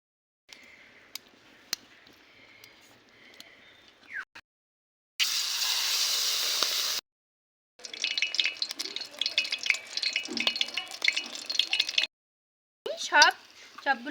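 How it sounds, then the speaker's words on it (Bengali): Mustard greens leaves dipped in batter sizzle in hot oil as fritters, a bright burst of frying hiss set between stretches of someone talking and the clink of utensils. "তারপর এইভাবে ব্যাটারে চুবিয়ে ভেজে নেব"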